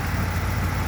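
A 1992 Dodge W250 pickup with a 360 LA V8 idles just after a cold start, a steady low rumbling drone that is loud and close and continuous throughout.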